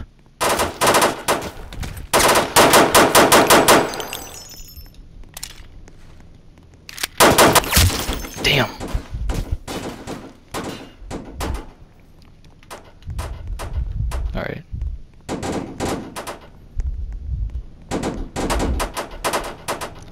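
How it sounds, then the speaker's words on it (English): Gunfire in the Roblox game, rapid automatic bursts at close range followed by quieter scattered shots and bursts, loud and dense at times, with no speech over it. "Who could possibly be shooting at me from all the way down there?"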